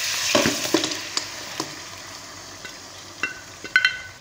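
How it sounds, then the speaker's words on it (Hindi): Mutton is moved into a hot karahi for Lahori-style mutton karahi, giving a close sizzle and frying hiss with several sharp clinks and stirring knocks, with no talk. "अब हम गोश्त को कढ़ाई में शिफ्ट कर लेंगे।"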